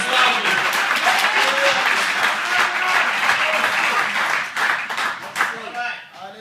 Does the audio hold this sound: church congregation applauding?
yes